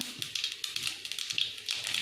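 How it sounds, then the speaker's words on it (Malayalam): Mustard seeds pop in hot coconut oil for a Kerala beef roast. The pops are faint, scattered little ticks and taps, irregular and close by, with no talking. "കടുക് പൊട്ടിക്കൊണ്ടിരിക്കുകയാണ്."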